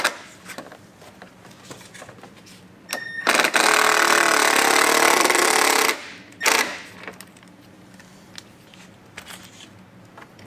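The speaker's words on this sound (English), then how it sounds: "take our drill, and we're just going to drill straight up into the body" A cordless drill whirs loudly for about three seconds driving a screw up into the body of a Polaris RZR Pro R side-by-side, then a brief second burst, with quiet handling noises before and after.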